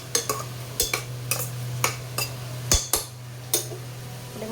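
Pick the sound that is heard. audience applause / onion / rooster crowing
onion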